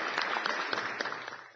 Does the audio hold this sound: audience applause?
yes